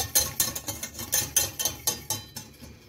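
A thick mixture for a black forest dome being stirred in a bowl, rhythmic scraping strokes about every quarter second, close and fairly quiet with no talk.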